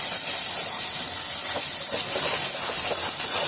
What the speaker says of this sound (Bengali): এবারে কিন্তু এটাকে এইভাবে ভেজে নিতে হবে